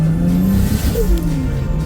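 A car with a newly replaced differential pulling away on a road, its engine revving loud and close with a short tire squeal as it accelerates off.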